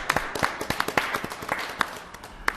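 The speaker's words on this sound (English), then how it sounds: "a round of applause, really, for everything they've done" A small group at a village council meeting claps in scattered, uneven applause, sharp individual claps close by, thinning out toward the end.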